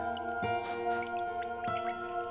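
Water drips in a hidden room inside a well in the RPG Maker game One Night 2 The Beyond, a couple of distinct splashing drops over a steady droning ambient tone, with no voices.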